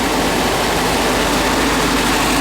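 A 1954 VW Beetle engine runs steadily close by, a loud, continuous broadband drone with a low rumble and no clear changes in pitch or rhythm, with no voices over it.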